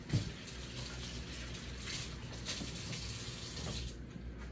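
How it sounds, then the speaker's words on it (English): Tap water runs steadily into a sink during handwashing at home, a close, continuous gushing flow with a faint thump at the start, no talking. "So why don't you wash your hands again?"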